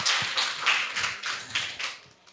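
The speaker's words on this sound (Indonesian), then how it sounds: "Boleh tepuk tangannya." Audience applause at a community talk event in Nglegi, Patuk, Gunung Kidul, a steady wash of many hands clapping close by with a few louder claps, fading slightly at the end.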